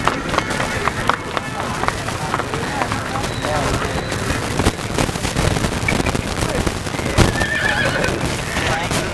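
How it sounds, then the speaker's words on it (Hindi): A mare whinnies and hooves clatter on the ground at a busy horse market in Aminpur, with loud crowd chatter and people talking throughout. "घोड़ी आ रही जे यार"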